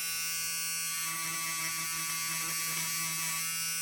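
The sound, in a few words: Peggy's Stitch Eraser cutting embroidery bobbin threads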